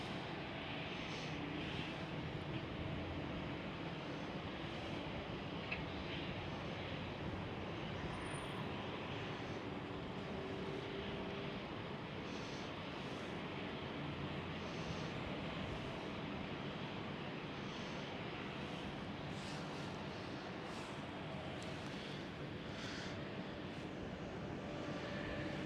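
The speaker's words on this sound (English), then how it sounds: "A330s taxiing out" Airbus A330 airliners, A330neo and A330-300 types, taxiing at Amsterdam Schiphol airport, a low, steady engine rumble and whine heard from a distance, continuous and faint, with no talk over it.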